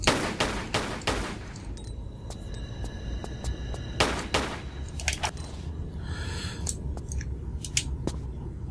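Lara firing her guns in a Tomb Raider level editor game, sharp repeated shots in quick clusters early and again mid-way, with thinner clicks and ringing tones between them and no talk.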